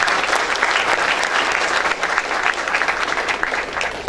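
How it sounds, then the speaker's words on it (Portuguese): Audience applause at a Bee Day event on native stingless bees at IAC Campinas, dense steady clapping from a crowd lasting throughout, fairly close and even in loudness. "Eu gostaria de uma salva de palmas para o Ricardo"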